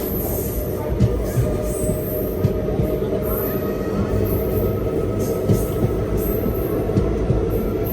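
Local passenger train between Chennai and Arakkonam, heard as a steady rail rumble with faint wheel screech, running continuously at moderate loudness without a pause.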